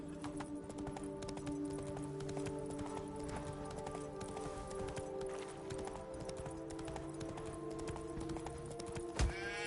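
Horse hooves galloping in The Witcher 3 video game, a steady rapid clip-clop running continuously under a tonal music bed, with a brief sharp accent near the end.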